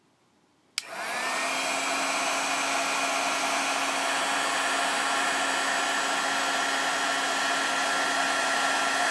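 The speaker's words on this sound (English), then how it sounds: "So I'm going to go ahead and turn on the gun now and melt the embossing powder." A Milwaukee heat gun switches on with a click and then blows a steady, loud fan-and-air whoosh with a faint whine while melting embossing powder, continuous and close by, with no speech.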